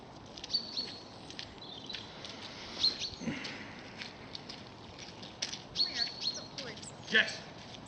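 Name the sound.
bird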